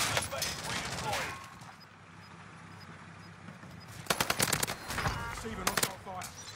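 Video game gunfire: a voice and quieter game sounds first, then sharp bursts of rapid automatic shots crackling loudly near the end.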